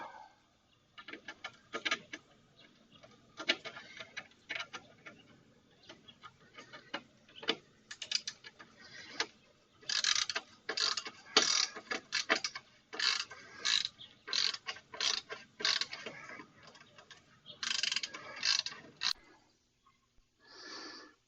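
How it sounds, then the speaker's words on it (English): A ratchet backing out two T30 Torx bolts on a Can-Am Ryker, a quiet series of rapid clicking bursts in short runs with pauses between them, recorded close with no talking. "I just need to take out these two T30 Torx bits."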